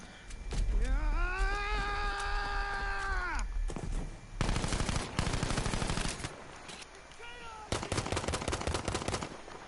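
Bursts of rapid automatic fire from an anti-aircraft gun in Battlefield V, loud and close, broken into several strings with short pauses and a wavering whining tone in between.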